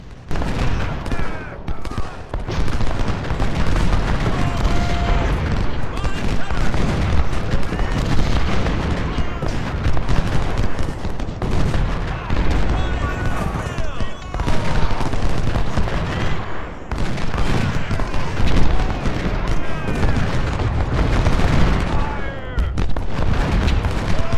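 Dense, continuous volleys of close-range musket and artillery fire in the Civil War strategy game Ultimate General: Civil War, with sharp overlapping cracks and booms filling the whole stretch at steady high intensity and some faint voices underneath.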